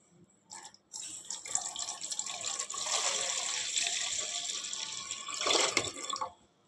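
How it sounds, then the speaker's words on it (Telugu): Water poured onto washed toor dal in a vessel, a steady splashing stream close by that swells near the end and then stops, with no talking. "దానికి 3 కప్పులు వాటర్ అయితే పోసుకుందామండి."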